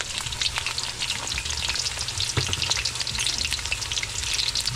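Sliced pork intestines fry in hot oil with a dense, continuous sizzle and crackle, steady and fairly quiet, with occasional sharper pops and stirring clatter and no voices.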